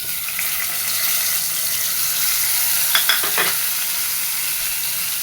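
Onion, garlic, cumin and dried chili fry in a pan with a steady, close sizzle, broken by a few brief scraping stirs near the middle, with no talking.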